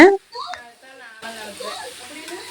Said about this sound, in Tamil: சிக்கன் போட்ட பிறகு பார்த்தீங்கன்னா எண்ணெயில் வந்து நல்லா வணக்கி எடுத்துடலாம்